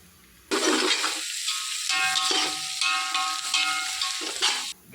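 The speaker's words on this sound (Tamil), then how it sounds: "வெங்காயம் வந்து பார்த்தீங்கன்னா நல்லா பொன்னிறமாக வந்து நல்லா வதங்கணும்" Onions for an Arcot mutton dum biryani drop into hot oil and burst into a loud, close, sustained sizzle that runs for several seconds and then cuts off sharply, with no one talking.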